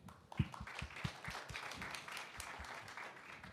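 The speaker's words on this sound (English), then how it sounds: "Please give her a round of applause." Audience applause at an open innovation event, quiet and somewhat distant, starting with a few sharp separate claps that blend into a soft, steady patter.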